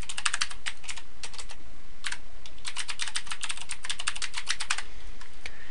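Quick, close keystrokes tap out an account name on a computer keyboard in uneven bursts with brief pauses between them, loud and clear with no talk.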